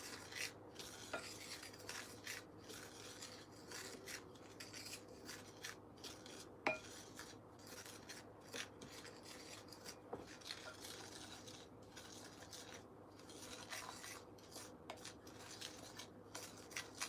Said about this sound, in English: I'll mix in the dry part of the cheese